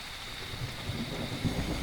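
Steady rain hisses in the EverQuest game world, with low thunder rumbling softly beneath the downpour.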